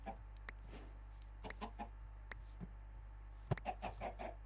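Minecraft chickens cluck repeatedly in short bursts over a steady low hum, fairly close, with no talking.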